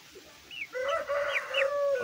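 An Indian Aseel hen gives a short series of clucking, cackling calls, fairly close and clear, with quiet surroundings and no talking.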